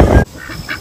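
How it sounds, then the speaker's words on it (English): Farm ducks let out a loud, close quack burst, followed by a couple of fainter quacks a moment later. "Chickens, more ducks."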